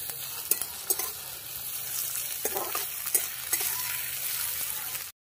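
Onions fry lightly in a pan with a soft, continuous sizzle, broken by occasional clicks and scrapes of a spoon stirring them close by.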